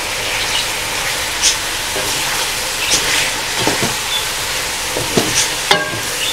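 Bone-in chicken frying in a pan for white chicken karahi, a steady close sizzle with occasional louder pops and stirring clatter, no voices.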